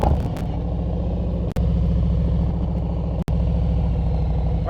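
Motorcycle engine slowing to a stop, a steady low rumble with even harmonic bands, broken by two brief dropouts as the rider works the clutch.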